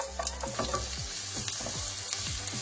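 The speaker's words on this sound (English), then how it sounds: "Next we're going to add in the onions." Onions going into garlic already frying in a pan with chilies, a steady dense sizzle under repeated scraping stir strokes, close and continuous with no talk.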